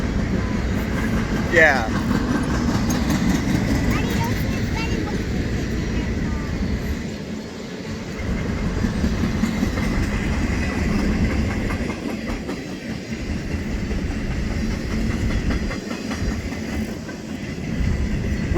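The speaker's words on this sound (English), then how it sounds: "We've never seen a train that had 3 different types of engines on it, have we? That one had Norfolk Southern, Union Pacific, and BNSF." A long freight train hauled by Norfolk Southern, Union Pacific and BNSF locomotives rolls past close by, with a steady rumble and clattering wheels throughout. Voices talk briefly over the noise.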